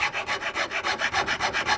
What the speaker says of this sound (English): I come down to a little chainsaw file